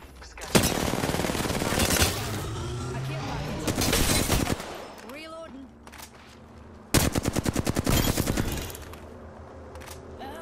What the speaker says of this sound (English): Bad bots are shooting at me.